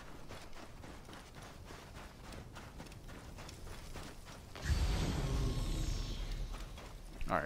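A horse in Assassin's Creed Origins runs with rapid, rhythmic hoofbeats, fairly faint, then a louder rushing whoosh takes over for the last few seconds.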